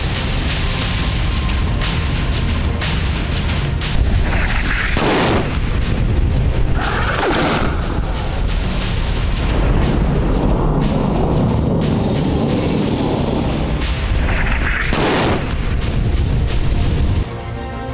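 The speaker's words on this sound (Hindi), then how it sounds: "समंदर में सबमरीन से धमाका," Missile explosions and a blast from a submarine at sea, heard as loud, continuous booming and rumbling like artillery fire, with several heavy impacts rising out of a dense roar that lasts throughout.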